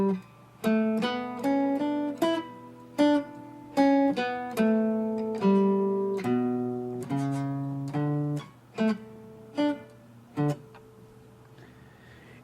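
An electric or acoustic guitar plays a dozen or so tenuto notes alone, each struck with a clear attack and held for its full length in a slow, even sequence.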